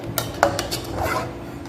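Utensils clink and scrape against a pot or bowl as a sweet gram-flour mixture is stirred, a handful of close, sharp metallic knocks followed by softer mixing.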